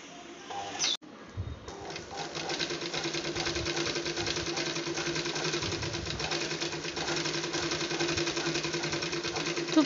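Sewing machine stitching with delicate silk thread at a slow pace, starting after a brief clunk and then running as a steady mechanical whir and rattle, close and continuous with no speech.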